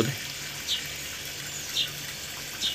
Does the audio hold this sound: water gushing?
yes